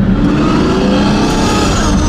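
A Pagani Imola engine revs loudly up close while warming up, a dense growling roar with rising pitch over a couple of seconds.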